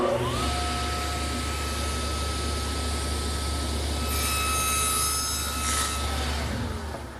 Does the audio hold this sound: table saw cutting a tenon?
yes